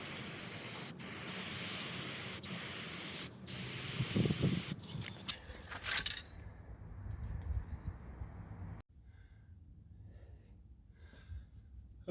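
Spray paint hisses out in bursts as black is coated onto a wrought iron garden bench, loud close sprays for several seconds, then quieter intermittent spraying and rustling.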